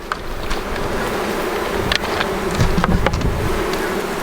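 Swarm of honey bees buzzing steadily and close while frames are shaken and comb is harvested from the hive in smoke, a dense continuous drone with occasional louder passes and handling bumps.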